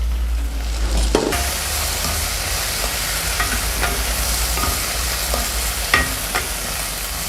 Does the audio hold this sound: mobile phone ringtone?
no